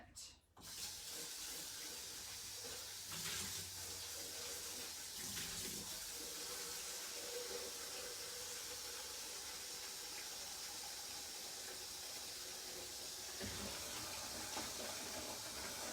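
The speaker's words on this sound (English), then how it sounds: "It's a big bucket. It takes a little while to fill up." A tap runs water steadily into a big bucket, a continuous hissing splash holding the same level throughout.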